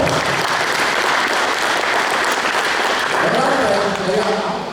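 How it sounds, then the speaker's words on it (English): Touchdown Club meeting crowd in Laurens County applauding sponsor Farm Bureau Insurance: full, sustained clapping from a roomful of people, steady and loud, with a voice starting up under it near the end. "Let's give Farm Bureau Insurance a round of applause."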